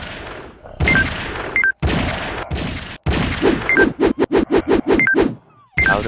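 Gunfire in a circus shooting video game: single shots, then a rapid string of sharp cracks, with short synthetic beeps between bursts and brief pauses, loud and up front.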